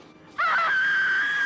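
A woman's sudden high, sustained scream from a 1987 horror film street attack scene, starting abruptly after a quiet moment and holding loud and steady to the end, with no speech.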